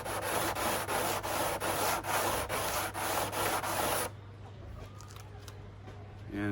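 A motorcycle windshield edge is sanded by hand with 240 grit sandpaper, giving loud, rhythmic rubbing strokes close by for about four seconds, then stopping, leaving quieter handling noises.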